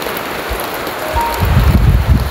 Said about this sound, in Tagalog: Umuulan guys dito sa Korea.